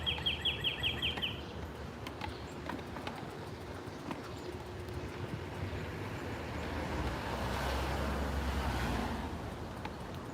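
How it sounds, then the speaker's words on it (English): Birds chirp and trill in the morning along a city street in East Elmhurst and Astoria, Queens, with a quick burst of calls near the start over steady traffic and street noise. "Who needs an alarm clock when you have these birds?"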